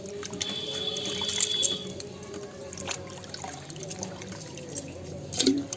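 Sweet potatoes being washed by hand in a pot of water outdoors in the morning, with soft splashing, trickling and dripping sounds, moderately close, and a brief louder splash near the end.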